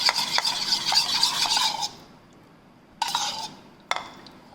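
Honey, orange juice and olive oil dressing with salt and pepper being whisked in a bowl, a close scraping and clinking of utensil against the bowl for about two seconds, then two shorter bursts of stirring after a pause.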